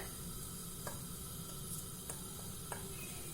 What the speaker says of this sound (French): Je fais revenir dans l'huile.